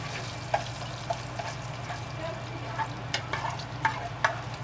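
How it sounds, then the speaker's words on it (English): Bacon sautés in butter in a pan, giving a steady close sizzle with light scraping and stirring clicks scattered through it, and no voices. "And I'm sauteing the bacon right now."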